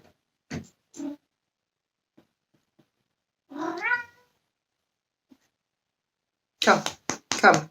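A house cat meows indoors, giving a few short cries and a drawn-out wavering one separated by silence, then a louder cluster of sharp bursts near the end.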